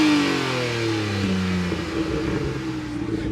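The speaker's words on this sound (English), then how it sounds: "Build up some rev." A Porsche GT3 engine revs loudly up close, its pitch sliding down as the revs fall away into a rough idle.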